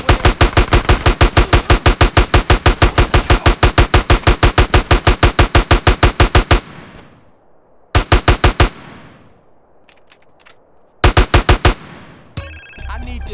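Rapid automatic gunfire in GTA San Andreas, with a long evenly spaced burst of loud shots, then a pause and two shorter bursts close and loud.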